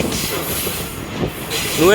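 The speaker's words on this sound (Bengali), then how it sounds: "আমরা এখন প্রবেশ করছি কলম্বো পোর্ট স্টেশনে" Rumbling rail noise of a train rolling into Colombo Port station, Sri Lanka, with a rising wheel squeal at the end, close by, with faint voices in the background.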